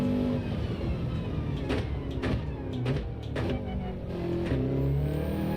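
A racing car in a driving game brakes hard in fifth gear and steps down through the gears, its engine note droning and shifting with short blips and bursts of revs, loud and continuous throughout.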